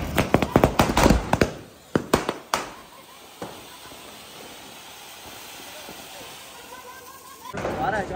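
Firecrackers burst during Diwali celebrations outdoors: a rapid cluster of sharp, loud bangs, then a long lingering hiss and crackle, with another fizzing burst at the end.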